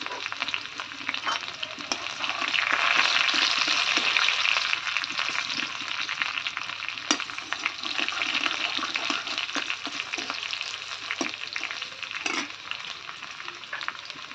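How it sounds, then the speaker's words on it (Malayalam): Thinly sliced shallots sizzle in hot oil with fenugreek seeds for a Kerala onion sambar, a steady close frying crackle with a few stirring clinks, swelling early and then settling, no voices. "ഇനി നമ്മൾ ചെറിയ ഉള്ളി ചീകി അരിഞ്ഞത് അത് നമുക്ക് ഇതിലേക്ക് ഇട്ട് കൊടുക്കാം."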